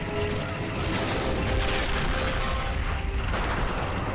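Gunfire from a sniper and a machine gunner in the Army Men of War game, a dense continuous crackle of shots and mechanical clatter over a low rumble, loud and steady throughout.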